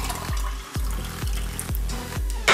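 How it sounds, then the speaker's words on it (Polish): Pineapple water poured from a container into a small glass, a run of rhythmic glugging splashes about every half second, ending in a brighter splash. "A, to jest dużo wody. Ja sobie do szklaneczki odleję."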